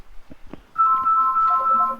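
A mobile phone ringtone rings out loud and clear as a bright repeating melody, preceded by a few soft knocks and rustles in a quiet classroom-like room.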